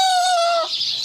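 A single close, loud bird call with a sustained tonal squawk that breaks off abruptly, like a hen's drawn-out cluck, followed by quiet.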